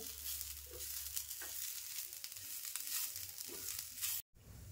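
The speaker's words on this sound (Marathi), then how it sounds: "आता कोथिंबीर पण चांगली व्यवस्थित अशी ना 2 मिनटं भाजून घेते" Coriander leaves roasting in a pan for a Malvani chicken dish, giving a steady, soft sizzle with a few scraping stirs, brief cut near the end.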